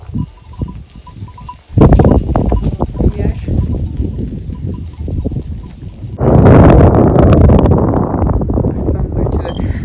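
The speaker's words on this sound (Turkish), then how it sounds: "Çok fazla rüzgar var." Heavy wind buffets the microphone in loud, rumbling gusts, growing stronger partway through, with rustling and movement noise beneath.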